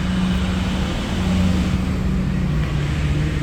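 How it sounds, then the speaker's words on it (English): A loud truck passes close by, its low engine rumble and road noise steady and heavy throughout, with no talking. "I'd say that truck was loud and clear."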